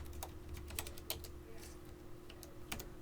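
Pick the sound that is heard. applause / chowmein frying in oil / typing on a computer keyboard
typing on a computer keyboard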